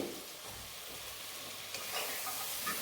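Ridge gourd and dried chillies hitting hot oil in a pan, a soft, continuous sizzle and hiss with a few louder spits partway through, faint and close, with no one talking.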